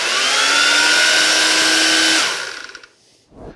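A Skil 16-inch worm drive carpentry chainsaw runs at a loud, steady whine, then the chain brake engages and it quickly winds down into near silence, followed by a faint thump.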